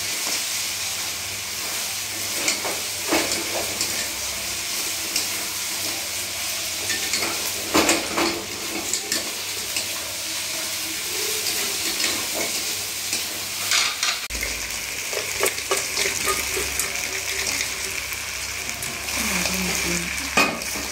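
Chicken pieces frying and sizzling in a pan for Bengali-style chilli chicken, a steady loud sizzle with stirring scrapes and occasional pan knocks throughout, no talking.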